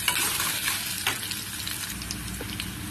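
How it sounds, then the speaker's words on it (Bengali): Diced potatoes frying in hot peanut oil with cumin seeds, a steady close sizzle with soft scraping of a spoon stirring through the pan. "এবার আমি দিয়ে দেবো টুকরো করে কেটে রাখা আলুগুলো দিয়ে একটু নেড়ে ছেড়ে নেব।"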